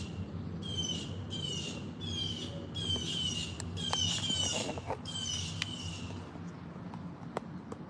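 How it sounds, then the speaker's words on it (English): Pet birds squawking and chirping indoors in a quiet room, a series of sharp, fairly faint calls repeated in short bursts with a few clicks between them, no talking. "You hear the birds?"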